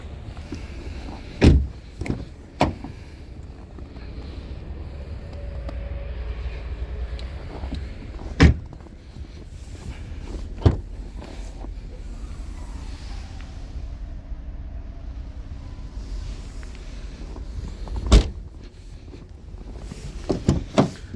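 Electric power windows of a 2021 Skoda Scala 1.6 MPI run in turn, a low motor whir broken by sharp clicks and thumps as each window starts and stops, heard close inside the cabin.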